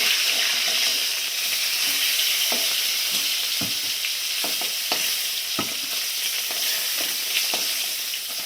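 Fish fries in hot oil in a pan, giving a loud, continuous close sizzle with scattered crackles and pops throughout.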